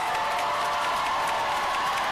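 A college commencement crowd in Atlanta applauds and cheers new graduates, a dense, loud, even roar of clapping and voices that fills the space with no single speaker standing out.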